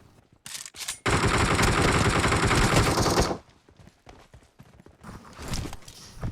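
Gunfire in the mobile battle game BGMI, with scattered single shots, then a dense sustained burst of automatic fire for about two seconds, followed by sparser shots and rattling game sounds.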